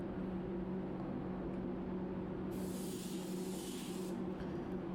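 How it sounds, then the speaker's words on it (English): A spray gun applying a paint fade-out on a black car, with a faint, steady hiss under a constant low hum and a brighter burst of spraying for a couple of seconds midway. "I'll put the fade out on first, and then I'll clear coat into it."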